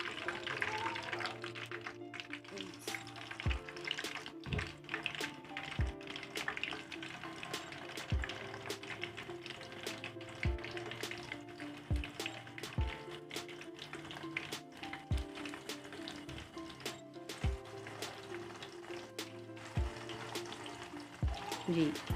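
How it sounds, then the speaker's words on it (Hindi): Pumpkin kofta balls frying in hot oil, a steady bubbling sizzle throughout with sharp clicks and pops scattered on top, close and fairly quiet, no talking. "तो जी व्यूवर्स ऑयल गर्म हो चुका है और अब हम कोफ्ते डालते हैं।"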